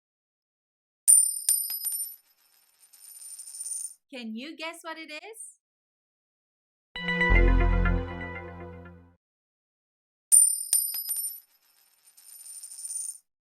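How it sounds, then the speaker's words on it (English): Metal coins drop and scatter across a floor in two separate bursts of bright jingling and clinking, each lasting about a second, with a cartoonish voice and a musical flourish heard in between. "They're coins dropping on the floor."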